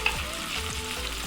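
Oil hits a hot tawa beside tandoori chicken being smoked, setting off a loud, steady, close sizzle with continuous crackling spatter and no voices.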